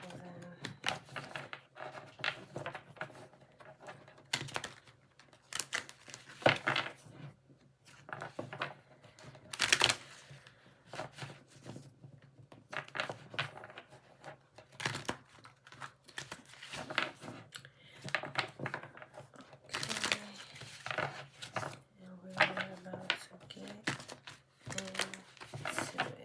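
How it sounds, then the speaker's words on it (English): Tarot cards being shuffled by hand: a long run of soft, irregular riffles and flicks, rising and falling in bursts, fairly close and quiet, with no talk. "Get a couple shuffles in."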